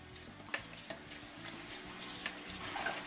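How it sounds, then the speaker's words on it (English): A spoon stirs a ranch seasoning packet mix for pork chops in a bowl, soft scraping and stirring with a couple of sharp clicks against the side, quiet and close with no talk. "let's go ahead and get that stirred up"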